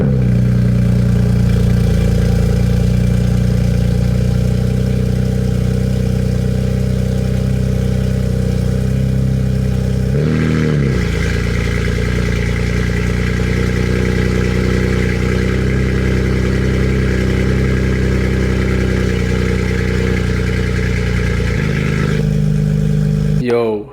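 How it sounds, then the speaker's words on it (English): BMW M3/M4 with a MAAD Maxx exhaust, catless downpipes and valves closed, fired from cold: a loud, steady low idle drone lasting throughout, with a brief dip and surge near the middle and a rev blip at the end. "First cold start with the MAAD. We're gonna do valves closed, and then I'll open her up."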